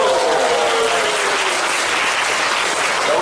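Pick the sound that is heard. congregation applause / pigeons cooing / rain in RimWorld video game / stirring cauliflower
congregation applause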